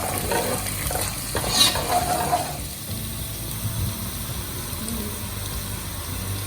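Ginger lightly sautéing in a pan, a steady loud sizzle with a short stirring scrape early on, then an even hiss.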